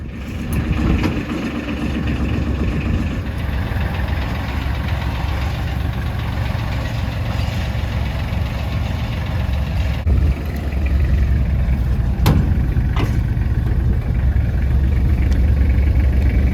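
A 1964 Chevrolet C10 truck engine, out of the truck, runs steadily at idle, a low rumbling drone close by with a few faint knocks and clunks along the way.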